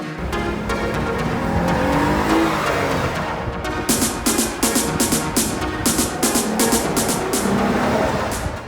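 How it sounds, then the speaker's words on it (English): Lexus LS 500h hybrid with a 3.5-liter engine accelerating hard in Sports Plus mode, a loud, rising engine roar that climbs steadily, then settles into a pulsing drone. "The engine is massively refined and aggressive at the same time"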